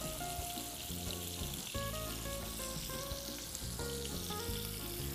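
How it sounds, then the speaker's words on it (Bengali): Diced capsicum sautéing in a little oil on a stovetop burner gives a steady, close crackling sizzle across the whole stretch, with melodic background music running underneath and no talking. "আর এই ফাঁকে আমি এই চুলায় একটু ক্যাপসিকামটাকে সতে করে দিব।"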